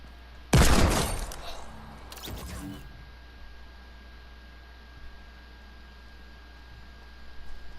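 Video game gunfire: a sharp, loud shot cracks out near the start with a quick ringing tail, followed by a second shorter burst about a second and a half later, then quiet background hum.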